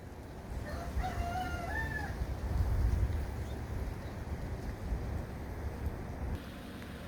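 A rooster crows clearly early on, then more crowing and clucking from fowl sounds faintly in the distance over a steady outdoor background rumble.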